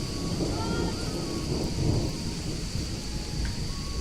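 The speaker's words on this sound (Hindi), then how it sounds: "बाकी देखिए बारिश शुरू हो चुकी है आज" Steady rain falls continuously in a hill village in Kumaon at the start of the monsoon rice-planting season, with a low thunder rumble rolling underneath and a faint voice in the background.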